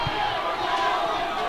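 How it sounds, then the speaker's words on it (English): Steady crowd roar fills the rink during a high-school ice hockey game between St. Paul's Big Red and Deerfield Big Green, a broad, continuous din of many voices with no distinct peaks, heard from within the stands. "The crowd making some noise, trying to defend that lead as well."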